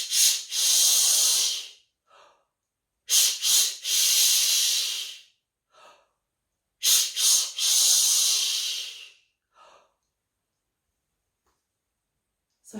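Three forceful belly-breath exhales from a singer's support exercise, each a loud rushing hiss of about two seconds followed by short quieter breaths and pauses, close and alone.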